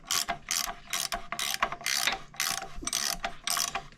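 A ratchet wrench clicks as a bolt is cinched down on a 1970 Sprint, heard in about eight quick bursts of close, crisp ratcheting strokes with short pauses between, and no talking.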